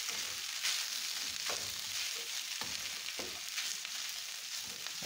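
Chorizo and nopales fry in a pan with a constant, fairly quiet crackling sizzle, broken by occasional soft stirring scrapes, close up and with no speech.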